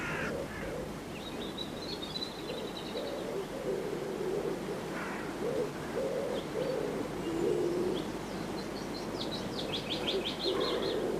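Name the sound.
pigeons cooing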